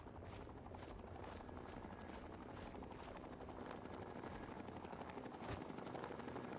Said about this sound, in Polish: Helikopter enklawy?